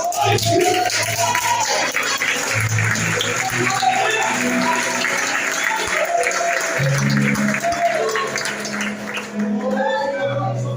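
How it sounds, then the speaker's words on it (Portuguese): A church congregation claps hands during a service, a dense, continuous wash of applause that holds steady for about ten seconds, with a voice and music-like tones sounding beneath it. "Isso, bate palmas."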